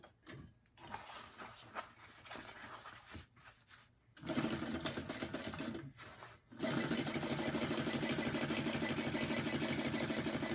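A sewing machine stitches the long edge of a fabric purse, running in short bursts with pauses, then settling into a steady, close, continuous whir.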